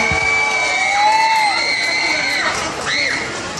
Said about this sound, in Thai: ขอเสียงปรบมือนะฮะกับยอดห้าพันบาท